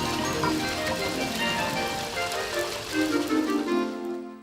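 Rainwater from a gutter pouring down a drainpipe into a drain on a rainy day, a continuous close splashing, trickling rush with steady intensity that swells slightly near the end.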